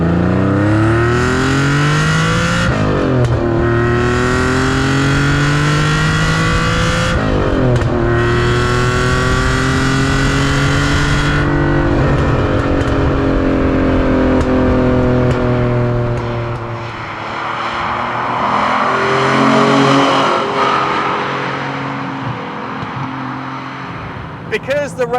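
TVR T350C sports car pulling hard on a cold road, its engine note climbing loudly through several gears with a dip at each shift, then easing off near the end while a voice speaks over it at times.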